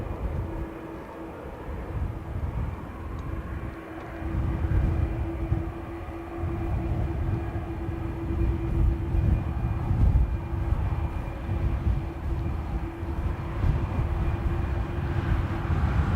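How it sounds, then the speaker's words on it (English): A Ryanair jet arriving from Gatwick rumbles steadily as it nears touchdown at Dublin Airport, a continuous low roar with a faint steady whine above it, fairly loud and unbroken throughout. "Ryanair from Gatwick almost about to touch down."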